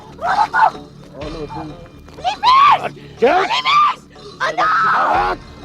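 A woman screams in distress during an abduction scene in a Hindi crime drama, with several loud, wavering cries in short bursts, close and intense, separated by brief pauses.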